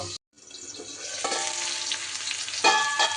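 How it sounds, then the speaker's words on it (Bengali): Kakrol (spiny gourd) frying in a covered pan, a soft steady sizzle after a brief silent gap, with a couple of light clinks near the end; no voices. "এইভাবে ঢেকে ঢেকে কাঁকরোলগুলো কিন্তু ভেজে নিতে হবে।"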